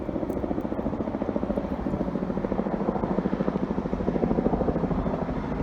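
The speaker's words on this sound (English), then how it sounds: "that is the YFF Muse 4 helicopter with its really cool camera pod" News helicopter fitted with a camera pod passing overhead, steady rapid rotor thumping with a continuous engine drone, fairly close and prominent with no talk.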